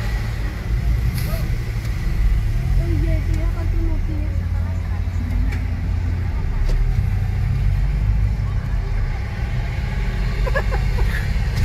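Cars moving through a stadium parking lot during the opening of a U-17 World Cup, a steady low engine rumble with passing vehicles throughout, crowd chatter and nearby voices mixed in.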